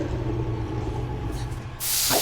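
Bear spray discharged in The Quarry video game, a sudden loud airy hiss starting near the end over a low droning background.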